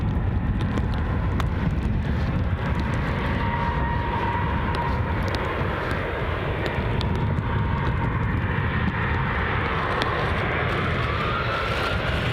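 Fixed-wing airplane departing Newcastle International Airport, a steady broad engine roar filling the whole stretch with wind buffeting the microphone, holding loud and even without fading.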